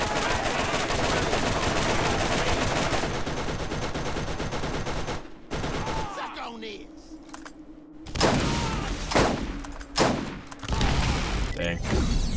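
An enemy turret fires in the Borderlands video game, with sustained bursts of rapid gunfire that drop out into brief pauses and then return with sharp booms, while someone talks over the action.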